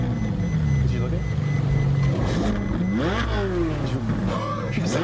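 A car engine revs in short bursts close by, rising and falling in pitch as the driver blips the throttle, with voices talking over it.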